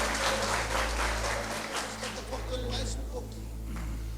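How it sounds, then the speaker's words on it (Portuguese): Steady applause from a church congregation fills the room, a continuous patter of clapping with voices mixed underneath. "os que podem, tomem o seu assento, aplaudindo a Jesus porque Ele é bom"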